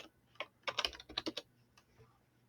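Typing on a computer keyboard, a quick burst of close, crisp key clicks in uneven rhythm, then a couple of softer taps, alone without talk.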